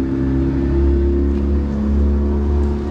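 A Yamaha F150 outboard motor on a repowered boat runs with a loud, steady, close engine drone and slight swells in pitch, heard alone without any talking.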